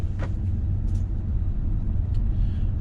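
A 2018 BMW 520i driving in comfort mode: a steady, close interior engine and road rumble, even and continuous, with a few faint clicks and no talk.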